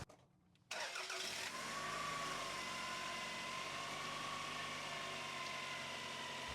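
A high-mileage car engine cranks and catches after a quiet moment, then settles into a steady close idle with a faint whine, running during a transmission fluid flush.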